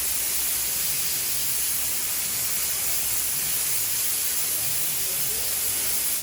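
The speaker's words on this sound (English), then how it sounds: "Oh yeah, I forgot to spray in here." A spray gun hisses continuously and loudly inside the kick panel area of a 1958 Pontiac Chieftain, a steady, broad hiss that cuts off abruptly at the end.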